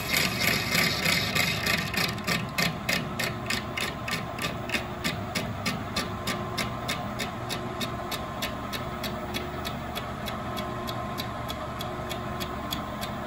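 An industrial thrust bearing plate is being resurfaced with a facing cut on a lathe, with a steady machine drone and a fast, regular ticking from the cut that fades slowly but keeps going throughout, with no one talking.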